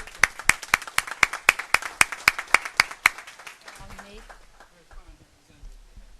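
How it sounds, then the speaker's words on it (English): Crisp, evenly paced clapping from a small audience at a health meeting with a senator present, with a dozen sharp claps over about three seconds that thin out, followed by quiet talking. "let's give you a round of applause"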